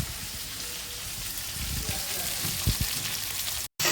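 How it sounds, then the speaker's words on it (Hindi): Potatoes fry in a pan over a low flame with a constant soft hiss and crackle, a couple of brief knocks near the end and a short drop to silence just before it stops. "मेरे आलू फ्राई हो चुके थे"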